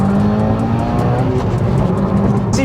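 A Subaru WRX STI with a 2.0-litre EJ20 turbo boxer engine revs loudly and steadily close by, its engine note droning continuously with no talk over it.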